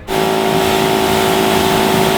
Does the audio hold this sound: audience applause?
no